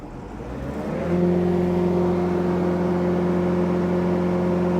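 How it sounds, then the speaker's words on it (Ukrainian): A combine harvester engine spins up and settles into a steady, even drone with a strong low hum and a constant whir, loud and close with no voices. "Гарно працює двигун."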